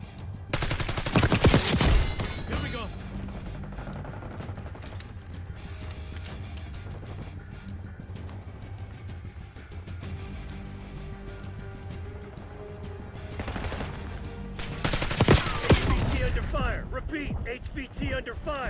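Call of Duty Black Ops 6 firefight with heavy bursts of automatic gunfire at the start and again near the end, sustained shooting and combat clatter in between, under game voice lines.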